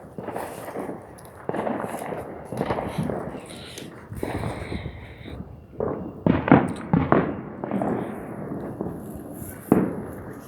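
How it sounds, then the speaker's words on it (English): Fourth of July fireworks crackle and boom in repeated bursts, some near and sharp, others farther off, with rapid popping clusters and occasional louder bangs. "See the other guys doing fireworks."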